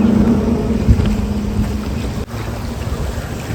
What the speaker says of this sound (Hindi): देख रहे हो पानी का बहाव कितना तेज है।